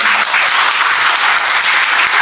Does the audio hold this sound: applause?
yes